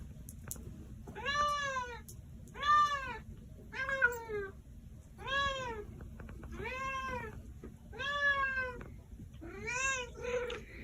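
A cat meows repeatedly, about seven clear, drawn-out calls spaced roughly a second apart, close and fairly loud over a low steady background hum.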